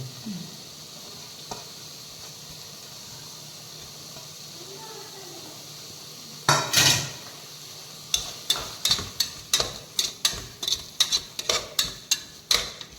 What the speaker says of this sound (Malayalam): ഇതിൻ്റെ ഒരു പച്ച മണമൊന്ന് പോകുന്ന വരെ ഒന്ന് വഴറ്റി കൊടുക്കുക